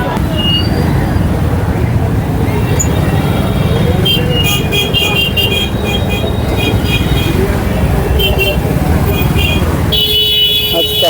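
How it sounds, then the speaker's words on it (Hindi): A crowded market street in Dumka, near the vegetable market, with steady traffic noise and a thick murmur of crowd voices, while motor horns toot repeatedly over the din. "आज काफ़ी भीड़ भाड़ है दुमका मार्केट में।"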